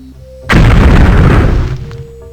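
A single loud, booming blast from shooting an enemy in the video game Daggerfall erupts abruptly, holds as a roaring burst for about a second, then fades out.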